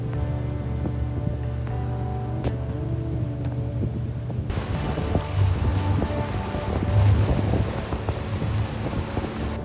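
Small riverboat cruising through early-morning mist on the Kinabatangan River in Borneo, a steady low engine drone with wind buffeting the microphone, growing noticeably louder and rougher about halfway through.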